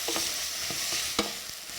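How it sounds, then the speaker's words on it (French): Sardines with garlic and carrots frying in a pan while being stirred, a steady sizzle broken by a few scraping stirs of the utensil, close and without voices. "Toujours en remuant."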